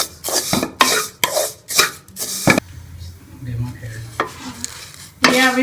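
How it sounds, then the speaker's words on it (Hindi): Vermicelli is stirred and roasted in ghee in a pan, with rhythmic scraping strokes of a spoon over a soft sizzle, close and loud, followed by quieter stirring and a final scrape. "आप इसी तरह सेवइयों को जो है वो अच्छी तरह से घी में रोस्ट कर लें।"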